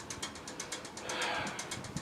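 Rapid rhythmic clicking and ratcheting from a rusty pressure washer as its filter is worked loose, a steady mechanical rattle throughout with a brief scraping swell in the middle.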